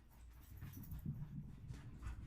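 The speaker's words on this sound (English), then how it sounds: "My dogs." Several pet dogs pant excitedly at close range, a steady run of quick breathy huffs with a few faint whimpers, no voices over them.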